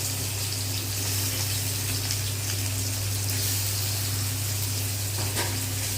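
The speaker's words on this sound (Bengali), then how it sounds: "দেখছো বন্ধুরা, আমি চিংড়ি মাছগুলোকে কড়ায় দিয়ে দেওয়া হলো।" Shrimp fry in hot oil in a wok with a dense, constant hiss and crackle. Under it runs a steady low hum, and the sizzle keeps an even loudness the whole time with no talking.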